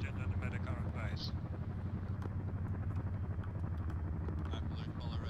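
Helicopter rotors from the ARMA 3 military game drone steadily and loudly at close range, a continuous low throbbing hum filling the whole stretch with faint background chatter under it.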